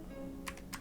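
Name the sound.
typing Python code on a computer keyboard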